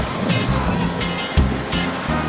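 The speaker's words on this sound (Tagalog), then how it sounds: "Yan ang mga alon." Ocean waves washing onto a rocky beach, a steady broadband wash with a couple of stronger surges, heard close with faint voices in the background.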